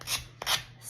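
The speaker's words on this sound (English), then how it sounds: "so I just use this little hand sander thing" Small hand sander rasping across a laser-cut wooden house kit in short back-and-forth strokes, close and dry, three quick passes with no talk.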